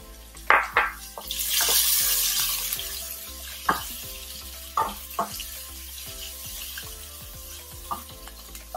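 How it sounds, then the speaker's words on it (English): Onions sizzling in a pan with curry leaves and green chilli, a steady frying hiss under sharp metallic scrapes and taps of a spoon, close and without speech. "so now my onions are sauteed, they're translucent at this point"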